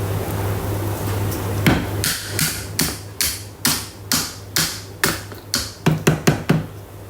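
Thermomix butterfly whisk tapped against the mixing bowl rim after beating stiff pavlova meringue, a series of about a dozen sharp, close metallic-plastic knocks in an uneven rhythm that quickens toward the end, with a low appliance hum behind.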